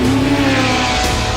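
A Porsche 917 Longtail race car with a 4.9-liter, 600-horsepower flat-12 engine roars at high revs, a loud, steady, harmonically rich engine note sustained without pause.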